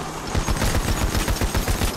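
Rapid bursts of automatic gunfire fill a modern battle video game, a dense rattling fusillade that runs loud and continuous for the full two seconds.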